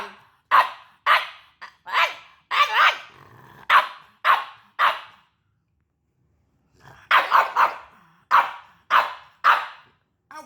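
A dog barks and growls at a 3D printed French bulldog, firing off a rapid series of sharp, close barks in two bursts with a low growl between them and a pause in the middle.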